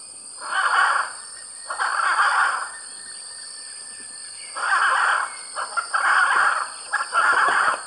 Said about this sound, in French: le couple interrompt son activité, le temps de se livrer à l'unisson